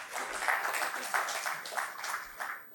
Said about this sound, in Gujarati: આપ સૌની ઉપસ્થિતિને પણ એકવાર તાળીઓથી વધાવી લઈએ